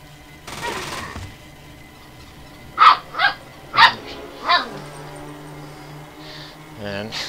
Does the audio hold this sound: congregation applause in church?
no